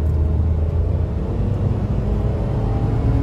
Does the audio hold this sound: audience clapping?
no